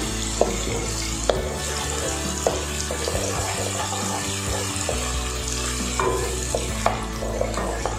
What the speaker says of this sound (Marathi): छान लालसर कलर येईपर्यंत आपण कांदा भाजून घ्यायचा आहे बघा।